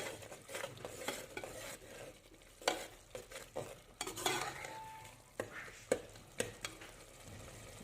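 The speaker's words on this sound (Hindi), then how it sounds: "अच्छे से भूनते हैं तकरीबन 4 से 5 मिनट तक।" Masala sizzles as it fries in a pan for a ridge gourd (turi) curry, with steady close stirring and occasional sharp spoon scrapes and clinks against the metal; no voices.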